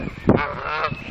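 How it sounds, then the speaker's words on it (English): Swans in a park give a short, nasal honking call, close and loud, one brief burst with a second fainter honk at the end. "Got some swan drama going on."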